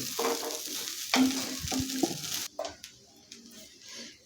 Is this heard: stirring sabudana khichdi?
yes